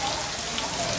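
Rain falls on a farm pasture being sown with new grass, a dense, steady hiss of drops that stays loud and even through the short stretch.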